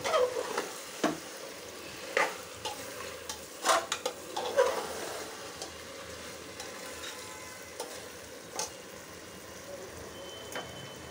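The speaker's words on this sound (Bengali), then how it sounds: "এখন এটাতে আলু দিয়ে একটু কষাবো, কষানোর পরে তারপরে এটার ঝোল দিব।" Beef and potatoes being stir-fried in a pan with spices, soft sizzling under scattered scrapes and clinks of a utensil against the pan, quiet and close, no talking.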